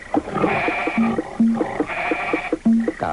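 Sheep bleat in a late-1980s Brazilian TV commercial for a livestock-raising magazine, several wavering bleats in quick succession, close and loud with no talking.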